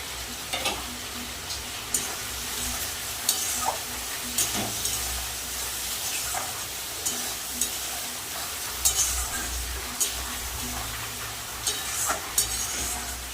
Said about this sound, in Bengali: ভালো করে মশলাটা কষিয়ে নেবো দিয়ে দেবো কাঁচা লঙ্কা